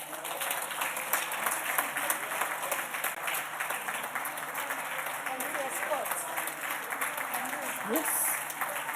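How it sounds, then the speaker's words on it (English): Applause in a national parliament session as Florence Abono is escorted in: a steady, fairly quiet wash of many hands clapping from a distance, sustained across the whole stretch with voices faintly beneath. "you can go ahead and clap for her."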